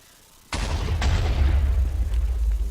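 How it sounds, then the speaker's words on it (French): Minecraft TNT explosion played through a custom resource pack: one sudden loud blast after a brief quiet moment, then a heavy rumbling roar that lasts to the end with no voices. "La TNT qui explose, ça fait ça."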